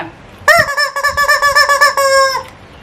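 A chicken gives a loud, close, drawn-out call made of a rapid string of harsh, honking pulses, lasting about two seconds, then stopping, with no voices over it.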